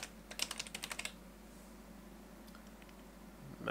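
A rapid burst of computer keyboard typing while setting up Linux Mint in VirtualBox, about a dozen quick, crisp keystrokes close up, followed by a few faint taps and a quiet room.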